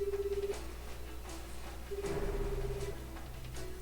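A telephone in the video game 428: Shibuya Scramble rings with short, repeating electronic tone bursts, fairly faint over a quiet background hum.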